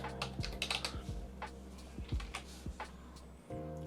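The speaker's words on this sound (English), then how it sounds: "then you just type in some text" Typing on a computer keyboard, a quick run of close, crisp key clicks in an uneven rhythm over a low steady hum, alone without talk.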